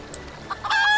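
A rooster clucking in Final Fantasy XIV, a few soft short clucks leading into a louder drawn-out crowing call near the end, close and alone.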